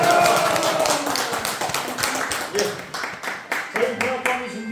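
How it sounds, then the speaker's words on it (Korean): Scattered hand claps at a Korean literary hall visit, irregular and close, thinning and picking up again with voices murmuring throughout. "박수 주세요."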